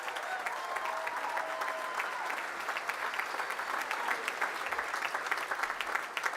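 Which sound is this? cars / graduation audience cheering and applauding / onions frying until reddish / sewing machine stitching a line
graduation audience cheering and applauding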